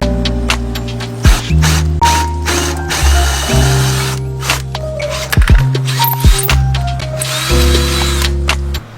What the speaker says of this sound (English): And this will help the drill bit not wander.